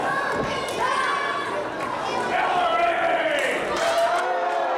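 Wrestling crowd at AMW Summerbash 2017 reacting to the action, a busy murmur of shouting and jeering voices with scattered thuds, all beneath steady close commentary.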